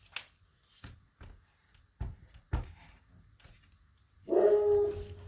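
A pet dog barks a few times close by at intervals, with a whimpering, tonal vocal burst near the end, amid quiet shuffling household noise and no speech.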